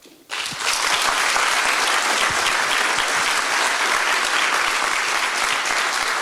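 An audience bursts into sustained, loud applause welcoming a presenter at a spring final project presentation, the clapping starting abruptly and staying steady and dense throughout.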